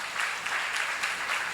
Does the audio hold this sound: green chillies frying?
no